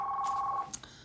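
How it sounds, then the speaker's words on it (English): A mobile phone rings with a steady electronic two-tone beep for about half a second, then cuts off, leaving faint background hiss and no talk. "Sorry about my phone ringing."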